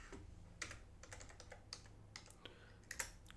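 Fast, light clicking of typing on a computer keyboard, irregular keystrokes in a short burst at close range with no talking.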